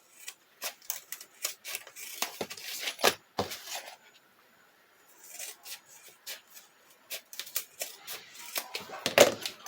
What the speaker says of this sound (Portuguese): Agora a gente vai cortar esse excesso.